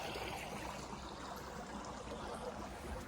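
Irrigation water runs from a pipeline straight into a farm field, a steady, close gushing flow with constant broadband rush and no pauses, heard alone for the whole stretch.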